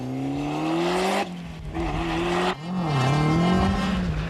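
A Hertz Ford Escort rally car on a stage of the 1994 Circuit of Ireland Rally, its engine revving hard and rising in pitch through the gears, with sharp lifts off the throttle between pulls, loud and close.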